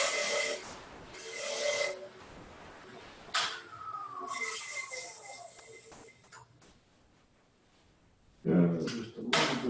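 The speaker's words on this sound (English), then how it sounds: "So I'm just going to use a negative rake scraper." A negative rake scraper works a piece of turned wood on a lathe, giving intermittent scraping and rasping strokes with pauses between passes, fairly close and moderately loud.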